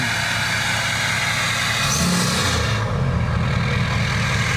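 A 2019 Ford F-450 Platinum diesel engine running as it warms up after a rebuild, a loud continuous close rumble with a brief rev swell partway through, alone without talk.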